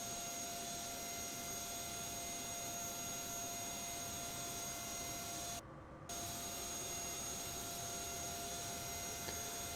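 Jet engines of an Aerosoft DC-8 spool up in Prepar3D, a faint, steady whining roar with a thin high tone, continuous apart from a brief dropout partway through.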